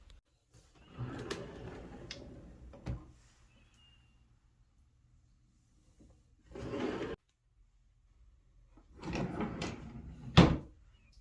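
Bathroom drawers sliding open and shut in three separate bursts of wooden rumbling and knocks, ending in a sharp closing thud, with quiet gaps between.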